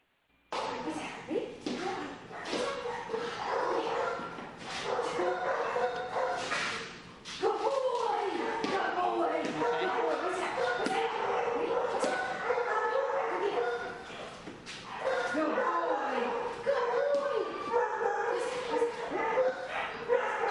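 A stressed shelter dog yips, whimpers and barks excitedly during a fetch game, the dog sounds coming in bursts throughout under a person talking.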